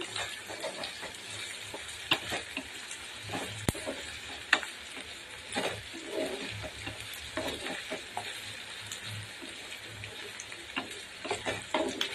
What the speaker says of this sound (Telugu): పోపులన్నీ కూడా బాగా వేపుకున్న ఉల్లిపాయలు ఎరగ వచ్చేదాకా